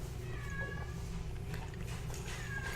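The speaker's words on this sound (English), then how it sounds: "Meowing in the distance." A cat meows faintly in the distance, two drawn-out cries over a steady low hum and background noise.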